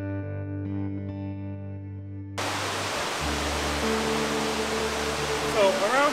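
A waterfall and stream give a steady, full rushing roar that cuts in abruptly after a short stretch of tonal music, with a low hum continuing underneath.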